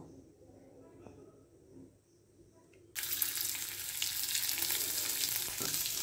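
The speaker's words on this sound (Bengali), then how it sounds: "এবার আমি কড়াতে আবার একটু তেল দিয়ে দেব" After a quieter start, a loud, bright sizzle bursts up about halfway through as oil and spices hit a hot wok for a prawn, potato and pointed gourd curry, then keeps going steadily, with a voice speaking in the background.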